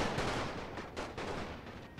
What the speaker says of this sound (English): now we're getting good fire from the hill position there and from the position down there